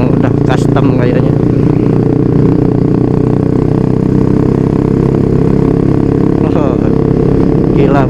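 Custom motorcycles riding with a touring group, a loud steady engine drone close by that holds throughout, with talk over it.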